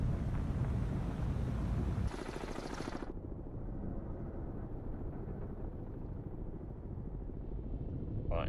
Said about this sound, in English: We definitely have helicopters out here.